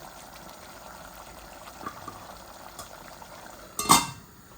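Soft bubbling and simmering from a pot of fish curry, fairly quiet and steady, with a brief louder clatter near the end.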